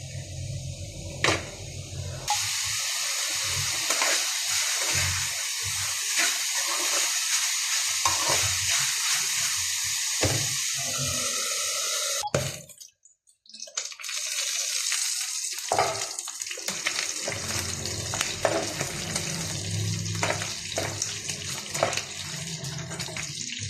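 Pork frying in a pan and rendering its own fat, a continuous loud sizzle and crackle with occasional stirring clatter, briefly dropping away midway before resuming.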